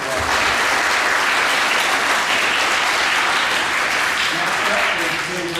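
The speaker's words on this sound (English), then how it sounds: "Give her a round of applause." Sustained audience applause fills a school awards assembly, dense steady clapping from a large crowd at constant loudness throughout, with a few voices faintly mixed in.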